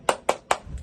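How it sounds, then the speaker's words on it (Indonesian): Three quick, evenly spaced claps from a Sunday school 'tepuk semangat' spirit clap ring out close and crisp in under a second, followed by a faint softer tap. "Tepuk semangat."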